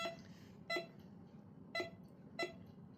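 Cheap Temu metal detector beeping over buried metal, four short sharp electronic beeps at irregular intervals, clear and close against a faint hiss.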